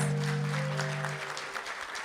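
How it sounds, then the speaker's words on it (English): Audience applause at a school district board of trustees meeting honoring a student award recipient, a steady patter of clapping with a low hum underneath that fades slightly toward the end. "Let's give her a round of applause"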